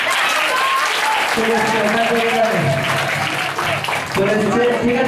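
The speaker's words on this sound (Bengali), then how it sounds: "এই দেখো হাততালি।" Dense, sustained audience applause fills a coaching centre's cultural programme stage show after a magic act, steady and loud throughout, with someone speaking over it in Bengali and brief tonal music woven underneath.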